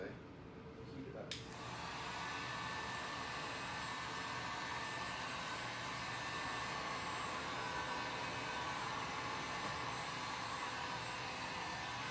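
A heat gun blows a steady, loud broadband rush as chrome delete wrap is heated around the edge of chrome trim on a Q50, holding constant after a brief quieter start.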